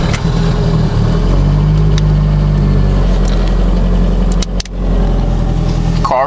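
A turbocharged car engine running on a Bosch 044 fuel pump idles loud and close during a cold start, with a steady low drone and a short dip and blip near the end.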